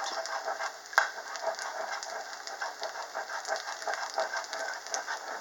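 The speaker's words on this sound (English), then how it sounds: "Just stir the egg until it scrambles up and cooks." Eggs scrambling in a hot pan for beef fried rice give a continuous close crackling sizzle, with a spatula scraping and stirring in an irregular rhythm and one sharper tap early on, no voices.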